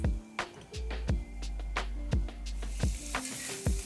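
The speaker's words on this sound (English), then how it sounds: "Now saute the onions till they become a nice, beautiful caramelized brown color." Onions sauté in oil for Malvani chicken, a soft sizzle beneath regular, close scraping strokes of a spatula against the pan.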